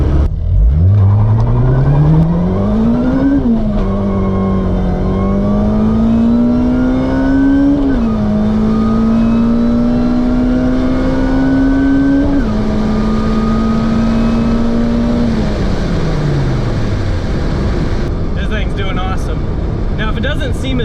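Supercharged Acura RSX engine pulling hard through the gears, its loud rising whine climbing steadily and dropping at each of about four shifts before easing off, close and continuous throughout.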